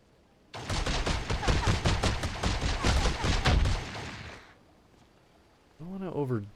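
Sustained machine gun fire in Fallout: Brotherhood of Steel: a dense, rapid string of loud shots rattles for about four seconds, then stops, and a voice comes in shortly after.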